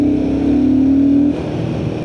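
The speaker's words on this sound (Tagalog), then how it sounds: "this is the Sherpa engine na dinevelop ni Royal Enfield, which is already liquid cooled" Royal Enfield Guerrilla 450 roadster with its liquid-cooled Sherpa engine, a loud close steady engine drone held for over a second, then dropping off to a lower idle-like hum.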